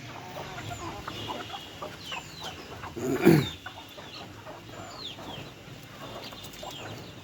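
Native (desi) hens and a rooster cluck softly and intermittently nearby, with one louder squawk or flurry in the middle, amid faint background chirps.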